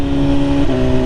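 A motorcycle with auto blip rev matching runs at high throttle in sixth gear, the engine a loud, steady close drone that shifts pitch slightly partway through the brief burst.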